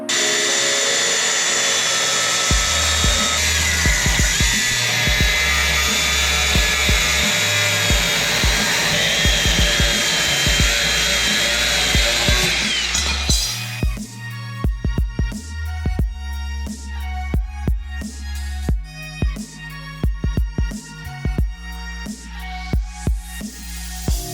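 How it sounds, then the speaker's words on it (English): A power tool cuts through the rear bumper bracket of a Toyota Tacoma with a loud, continuous whine for about half the time, then switches to choppy on-off bursts and clanks, close by and without talking. "I'm gonna go ahead and just cut it here and then smooth it out"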